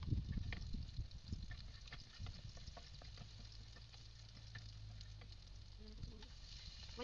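Garlic hitting hot cooking oil in a pan gives a soft, steady sizzle with light crackling, fairly quiet and close, under a low rumbling background and no clear talking.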